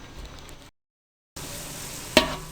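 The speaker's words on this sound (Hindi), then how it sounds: "अब आपने प्याज को हल्का ब्राउन होने तक पकने देना है।" Onions frying in a large pot for a big batch of pulao, a steady broadband sizzle that cuts out briefly, then resumes with a single sharper crackle or clink near the end.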